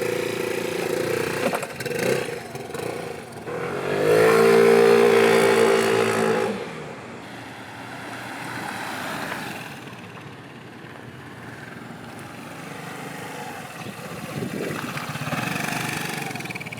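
Royal Alloy Grand Prix 300S scooter engine, loud while revving for a few seconds, then settling into a quieter, steady running hum while riding.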